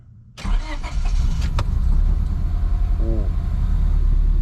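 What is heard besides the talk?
car engine starting and running after piston replacement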